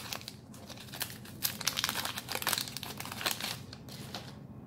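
The wax wrapper of a 1991 Fleer baseball card pack is torn open, giving close, quiet crinkling and crackling in irregular bursts over a few seconds, with no talk.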